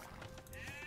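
Sheep bleating in the real-time strategy game Age of Empires 2, a single short, faint bleat heard alone.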